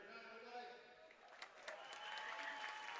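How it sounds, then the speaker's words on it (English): Home fans applaud at a Navy versus Alabama basketball game on military appreciation night, a broad wash of clapping and crowd noise building in the arena while an announcer speaks over it. "And a thunderous applause here from the home fans."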